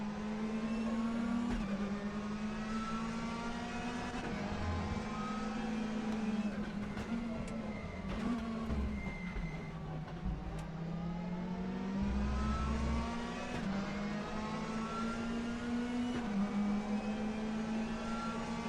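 Race cars in a racing video game at a Swedish track, with a loud, continuous engine drone that revs up and down as the car accelerates and shifts, no voices over it.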